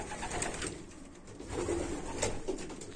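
A female racing pigeon in a loft coos softly nearby in a few low, throaty bursts against a quiet background hum.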